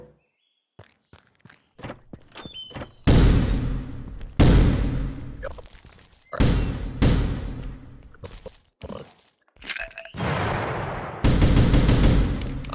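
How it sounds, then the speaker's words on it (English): Shotgun blasts in The Final Station video game, several loud, booming shots spaced a second or two apart with decaying tails, between lighter clicks and footsteps. "shotgun."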